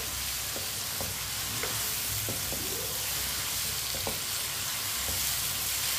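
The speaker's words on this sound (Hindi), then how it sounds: "आलू डाल के भी 2 मिनट के लिए पका लेंगे" Potatoes fry in a pan, a steady close sizzle punctuated by light stirring scrapes and clinks.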